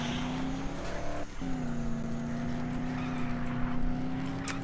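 A car engine drones steadily while driving in Dead Island, a low sustained hum with a brief dip and shift in pitch partway through, loud and continuous with no talking.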